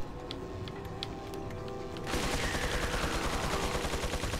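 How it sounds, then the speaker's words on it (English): A Gatling gun in the video game Resident Evil 4 starts up midway and fires a continuous rapid stream of loud, rattling shots that drown out the quieter sounds before it. "The Gatling gun of bullshit makes its triumphant return."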